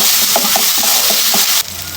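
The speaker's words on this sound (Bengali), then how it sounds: "সুন্দর একদম ভাজা করে নেব" A blended paste of cashew, cumin, ginger, garlic and poppy seeds fries in oil for a doi katla curry, sizzling loudly with quick scraping stirs before the hiss settles.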